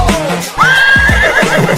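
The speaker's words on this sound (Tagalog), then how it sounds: "Kabayo!" A loud horse whinny rises and holds for about a second, then breaks into a shaky, descending neigh, with a few thumping low sounds underneath, close and alone with no speech.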